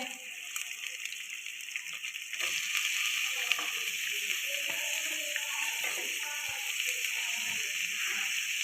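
Garlic fries in oil in a pan, giving a steady, close sizzle and hiss that grows louder and denser after a couple of seconds and then holds on continuously.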